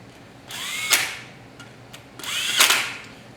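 A valve spring compressor bolted onto a cylinder head is run down with a power tool while dual valve springs are installed. Two short, loud whirring bursts about two seconds apart, close by, with no talk.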